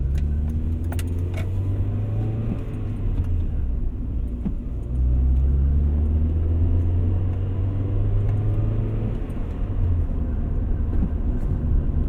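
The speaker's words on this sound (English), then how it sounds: "I can hear more engine noise, which makes sense." A 2000 Honda Prelude with a manual gearbox, engine droning low and steady from inside the cabin while driving, with road rumble and small rattles, the note shifting slightly partway through.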